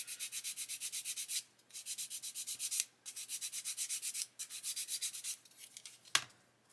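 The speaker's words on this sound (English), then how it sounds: "So it's just a case of just keep sanding until you're happy that it's flush." Plastic part of a 1/24 scale Airfix Spitfire Mk.IXc model kit being sanded flush, a close, steady rasping in rhythmic back-and-forth strokes with brief pauses between runs, no voices.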